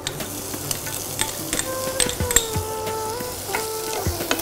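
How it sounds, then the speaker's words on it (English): Onions hit hot oil in a pan with garlic already cooking, a steady close sizzle and fry under light stirring clinks and scrapes of a utensil, with no voices. "Add the onions now."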